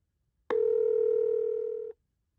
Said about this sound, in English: To return a call from a voicemail, tap the callback button